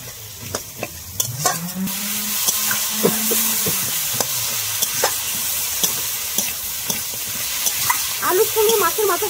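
Fried potatoes and fish heads stir-fried with spices in a pan for a cabbage dish, with a steady oily sizzle and repeated sharp scraping and clinking of the spatula against the pan throughout.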